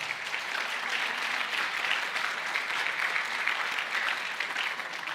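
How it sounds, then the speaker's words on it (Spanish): A church congregation applauds in a steady, dense wash of clapping that holds evenly at full strength throughout, with no voices over it. "denle ese aplauso al Señor"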